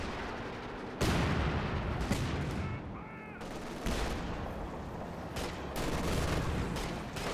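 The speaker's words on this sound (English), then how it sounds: "Scott's firing away over there." Gunfire in the real-time strategy game Company of Heroes 2, dense battle noise with bursts of rifle and machine-gun fire and heavy thumps running continuously, loud throughout with brief dips.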